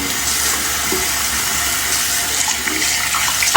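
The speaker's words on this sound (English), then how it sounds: "Just cleaning the brush, more fresh water." Steady running water splashes close and loud while a shaving brush is rinsed clean in fresh water, a continuous wash with no talk over it.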